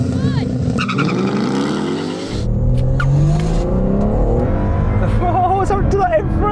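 Nissan Skyline R34 GT-R, Ford Mustang and BMW M3 launch together in a drag race, engines roaring loud and close with a rising rev sweep and turbo noise, while people talk over the cars.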